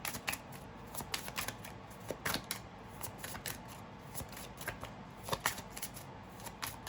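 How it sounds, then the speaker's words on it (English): A deck of tarot cards being reshuffled by hand, a steady run of crisp riffling slaps and flicks close by, continuing without pause and with no talk over it. "I'm being told to just reshuffle these cards"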